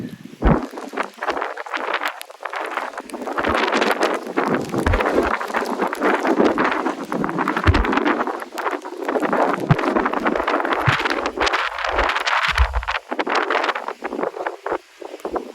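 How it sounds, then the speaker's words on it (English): Strong wind roars steadily against the microphone outdoors in the rain, with constant rushing and gusty buffeting throughout. "it's windy and it's raining"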